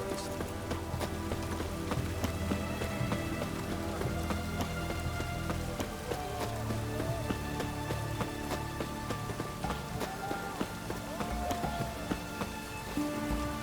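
Steady rain in The Witcher 3: Wild Hunt patters continuously over a busy background of hoofbeats and faint ambient noise, with no pauses.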